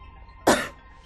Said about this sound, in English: Don't cough on me like that.